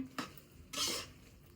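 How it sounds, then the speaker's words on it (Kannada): A metal plate set down over a pan of mutton liver gravy, giving a short clink followed by a louder scraping clatter as it settles, near and without talk. "ಮಿಕ್ಸ್ ಮಾಡಿಬಿಟ್ಟು ಪ್ಲೇಟ್ ಮುಚ್ಚಿಟ್ಬಿಡ್ತೀನಿ"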